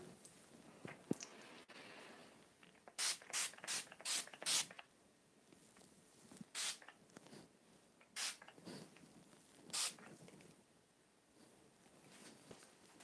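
A setting spray is spritzed from a pump bottle in several sharp hissing bursts, a quick run of about five close together and then a few single sprays spaced apart, against a quiet room.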